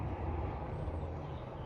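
A steady, low traffic rumble drifts in through an open window on the 14th floor, with an elevated road about 30 metres below. The sound is continuous and distant, with no voices.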